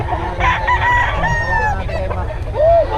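Gamefowl roosters at a game farm crow loudly and close, one long crow overlapping clucks and a second rising call, with a low rumble and faint voices underneath.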